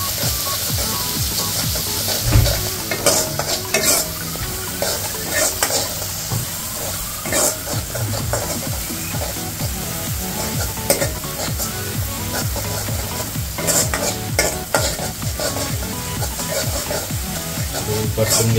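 Turmeric sautéing in hot oil for a dal tadka makes a steady sizzle broken by repeated stirring scrapes against the pan, close and fairly loud, with a little speech now and then.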